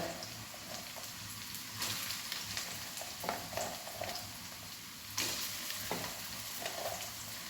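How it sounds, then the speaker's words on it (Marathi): Potatoes fry in a pan until golden for sabudana khichdi, a steady close sizzle with occasional stirring scrapes and crackles throughout, no talking. "हे छान असे फ्राय करून घ्यायचे आहेत गोल्डन कलर येईपर्यंत"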